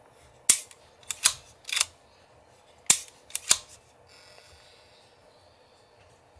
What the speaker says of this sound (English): I'm going to run this through a couple of cycles to advance the film